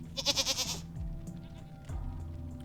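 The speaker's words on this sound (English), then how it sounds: "The mountain goat finds something on the ground to chew on." A mountain goat in the video game Wasteland 3 lets out one loud, wavering bleat up close, followed by quieter low game ambience.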